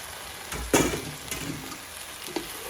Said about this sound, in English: so now I'm going to add the cauliflower in